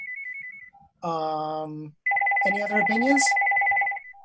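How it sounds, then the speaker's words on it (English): A telephone rings during a committee meeting held over a call, its electronic ringtone repeating in bursts between and under a person's speech. "Sorry about the phone."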